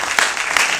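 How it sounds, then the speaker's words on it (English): Brief burst of audience applause at a film festival Q&A screening, a dense close patter of clapping hands lasting under a second. "Philip, let's give them a round of applause."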